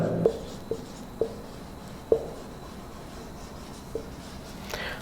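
A teacher writes an example on a classroom board during an English grammar lesson, and the chalk gives a few faint scratching strokes with sharp taps spaced irregularly over several seconds in a quiet room.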